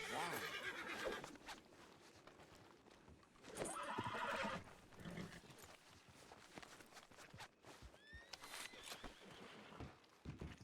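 A horse whinnies loudly amid clattering hoofbeats and game-like effects in a ranch roleplay video game, with a second neigh later over a busy, mixed background.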